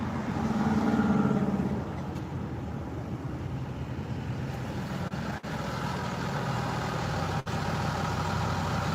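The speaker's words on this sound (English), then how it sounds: "You don't hear that truck?" A truck engine idles nearby with a steady, continuous low rumble, slightly louder in the first two seconds and then holding level, with two brief dropouts.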